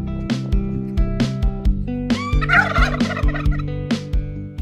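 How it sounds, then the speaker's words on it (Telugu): Turkeys gobble on a farm in Kandukur, Ranga Reddy, with several loud, close, rattling gobbles repeating in bursts and no talk. "ఆ టర్కీ కోళ్ళు చూసారు కదా,"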